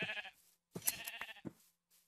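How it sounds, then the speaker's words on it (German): Sheep in the video game Minecraft bleat in a few short, wavering calls with brief gaps between them, heard fairly close and alone. "Ich glaube, ich habe ein paar Schafe von dir gefunden."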